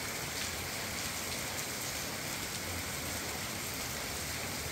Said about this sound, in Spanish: Bueno, hoy hay lluvia,